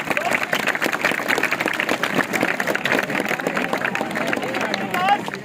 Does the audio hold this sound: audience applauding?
yes